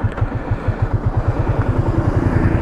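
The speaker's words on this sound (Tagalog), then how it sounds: "Turn on nyo yung motor. And then, start your engine." A Yamaha Sniper 150 manual motorcycle engine runs with a steady, rapid low thumping pulse, loud and close, idling evenly after starting.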